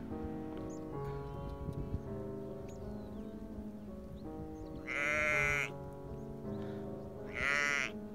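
Two loud sheep bleats ring out close by over a busy outdoor background with faint animal noises, on the South West Coast Path near Padstow.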